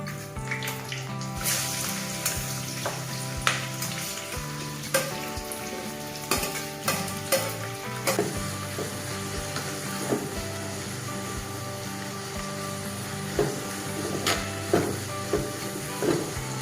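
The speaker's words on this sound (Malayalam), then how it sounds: "ഈ ഉള്ളിയൊക്കെ അന്ന് ഒരു ചുവന്ന നിറം ആകുന്നത് വരെ നമുക്ക് ഇങ്ങനെ വഴറ്റി കൊടുക്കാം" Onions, shallots and green chillies sautéing in hot oil in a pan for a spicy Kerala-style chicken roast, a steady close sizzle and hiss with scattered clicks and scrapes of stirring throughout.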